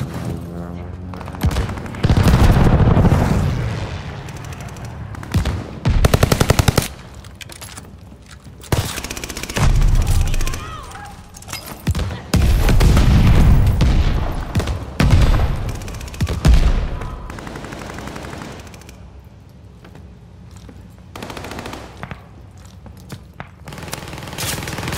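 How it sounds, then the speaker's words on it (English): Video game battle with an airstrike, heavy booming explosions and bursts of rapid gunfire, loud and close, with game voice lines over the combat. "Allies called an airstrike."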